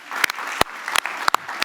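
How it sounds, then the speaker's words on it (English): Studio audience at a talk panel gives a round of applause, a moderately loud spattering of claps with a few sharper individual hits standing out over a brief, thin crowd wash. "Can we have a round of applause"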